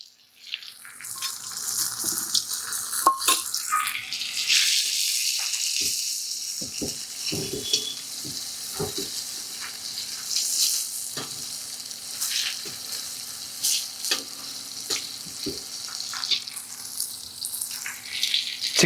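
Cumin, fennel and chilli sizzle steadily in hot frying oil for Chinthamani chicken, a continuous loud crackle broken by sharp stirring clinks and spatters.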